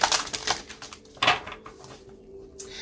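A deck of tarot cards is shuffled by hand, giving several crisp riffling bursts and soft card slaps, close and fairly quiet with gaps between them.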